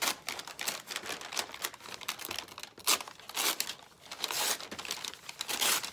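Paper crumpled and folded by hand for a craft, making close, crackly crinkling bursts that come in an uneven rhythm, swelling and easing throughout without any speech.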